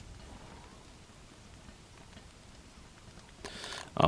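Rain falling in the video game Don't Starve, a soft, steady patter of drops that stays faint and even, then swells sharply with a louder burst at the very end.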